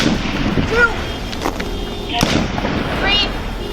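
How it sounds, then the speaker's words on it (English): A few sharp gunshot cracks ring out at a distance, spaced apart and mixed with voices speaking over them. "Shots fired, shots fired. 3 shots."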